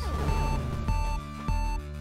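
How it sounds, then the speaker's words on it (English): Insistent electronic warning beeps sound in the video game Axiom Verge as the character takes damage, repeating in a steady pulsing pattern over game music with sustained tones. "Sorry for the annoying beep"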